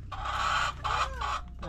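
Backyard chickens cluck loudly and close by in a few bursts, with a soft low rumble underneath.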